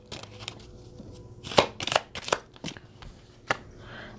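Tarot cards are shuffled and snapped by hand, a few crisp riffles and slaps in an uneven rhythm, close and clear with no talk.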